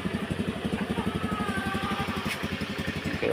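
A Honda Scoopy motor scooter engine idles close by with a steady, even pulsing putter and a faint rattle. No voices are heard.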